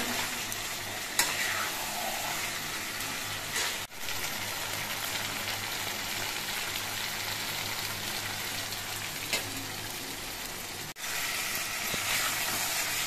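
Chicken pieces sautéed in a pan for a yogurt chicken curry, giving a steady loud sizzle with scraping stir strokes throughout and a couple of sharp utensil knocks, no voices.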